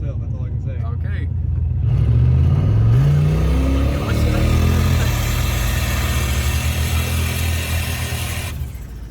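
A turbocharged police car engine revs up hard and accelerates, its loud mid-pitched roar climbing in pitch for several seconds before settling into a steady drone. People talk over it inside the car.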